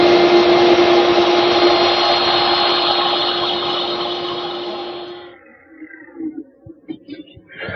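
A router table cuts a decorative profile into wood, a loud, steady high-pitched motor whine with cutting noise that cuts off after about five seconds, followed by quieter clunks and handling sounds in a workshop.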